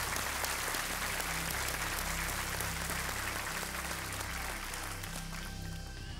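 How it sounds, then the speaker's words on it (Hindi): A TV quiz show studio audience applauds for Ajit Ranade, a broad, fairly quiet stretch of clapping blended with a low tonal music bed that carries on underneath and fades slightly at the end. "एक बार फिर अजीत रानडे जी के लिए तालियां।"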